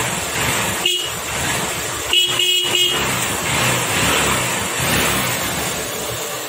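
A Honda Shine motorcycle engine runs after a cylinder head refit, a steady near engine drone with a few short horn toots over it.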